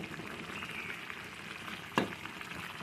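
Ridge gourd with dried prawns cooking in a pan as salt and turmeric are stirred in, a soft low sizzle with one brief sharp scrape or clatter of the spoon.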